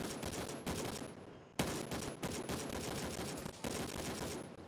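Gunfire in Gray Zone Warfare: long, dense automatic bursts, loud and close, briefly cut by short pauses before the rattling resumes.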